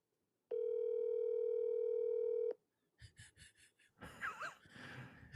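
Telephone call tone: a steady ringback-style tone sounds alone for about two seconds, followed by a short series of pulsed electronic beeps, then a burst of breathy, noisy voice-like sound.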